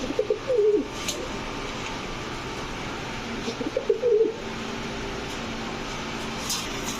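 Green-necked pigeons kept in a loft coo in two short throaty bursts over a steady background hum, close by and with no talk.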